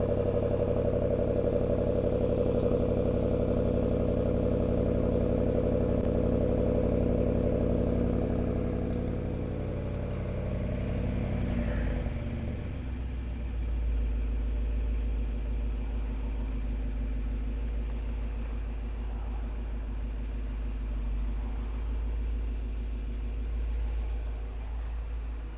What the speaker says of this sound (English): Nice sound from the engine itself.